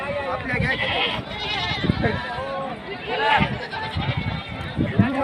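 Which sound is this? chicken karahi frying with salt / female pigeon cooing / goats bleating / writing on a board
goats bleating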